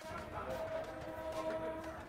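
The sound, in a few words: passenger train running at high speed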